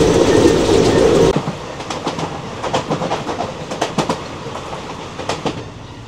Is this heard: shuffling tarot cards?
no